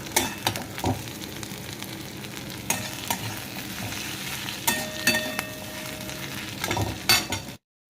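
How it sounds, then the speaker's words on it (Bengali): Onion frying and being stirred in a pan on a gas stove turned up high: a steady sizzle with repeated scraping strokes and occasional utensil clinks, close and alone without talk. "এই যে পেঁয়াজটা ভাজছি, এটা দিয়েই করবো এই ডিমটা।"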